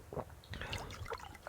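Water being refilled in the survival game Subsistence, a quiet series of splashy, gurgling liquid bursts and drips, close and irregular, with no talk.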